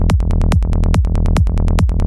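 A Zebra 3 synthesizer psy bass patch with default spectral decay pulses in a fast, even rolling pattern, loud and dense, each note dropping quickly in pitch with a bright attack.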